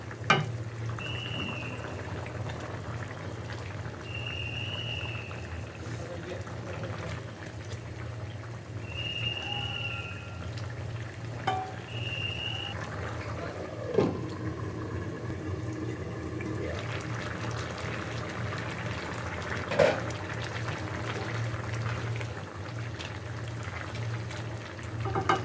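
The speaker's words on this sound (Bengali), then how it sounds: "আর এদিকে আমার ঝোলও ফুটে উঠেছে," Fish curry broth simmers at a steady boil in a pot on a stove, making a continuous low bubbling wash with a few faint sharper clinks and ticks scattered over the twenty-odd seconds.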